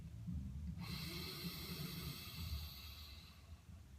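Slow, deep meditative breathing, a long airy inhale building and holding steadily with low breathy rumble underneath, close and fairly quiet, no talk.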